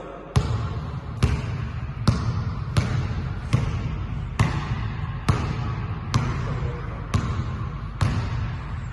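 A ball is dribbled through a slalom coordination course at a sports school aptitude test, giving about nine sharp, evenly spaced bounces on a hard floor, each ringing briefly in a roomy space, with no talk.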